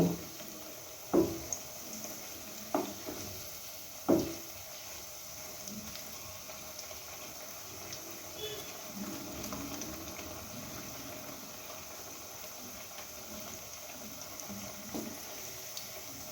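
Onion pakoras (piyaji) fry in hot oil with a faint, steady sizzle, broken early on by a few sharp taps and clicks.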